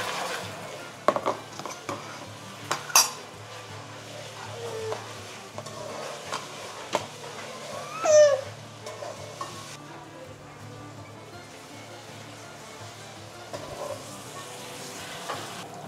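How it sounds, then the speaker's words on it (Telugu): Onions frying with ginger-garlic paste for a mango fish curry: a low sizzle with scattered spoon clinks and scrapes against the pan, busier in the first half and calmer later. "కొంచెం ఆనియన్స్ ఫ్రై అయ్యాక మనము అల్లం వెల్లుల్లి పేస్ట్ వేయాలి."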